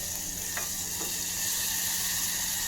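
Tomatoes hit a hot pan in a small kitchen and sizzle steadily, with a couple of faint clinks from a utensil over the constant frying hiss.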